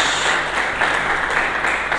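A church congregation claps for Jesus Christ in a dense, continuous wash of applause that stays at an even level for the full two seconds.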